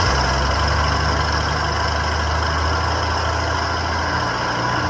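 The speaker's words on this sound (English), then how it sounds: "Okay, so she'll run, but only like full choke" A Ford XA Falcon engine running on full choke after 16 years off the road, idling loud and close with a steady low rumble and no voices.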